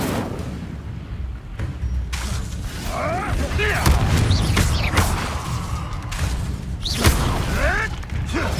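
Incendio fire spells in the Hogwarts Legacy video game whoosh and boom through a loud, busy battle, with repeated bursts and crackling blasts layered under game voices and effects.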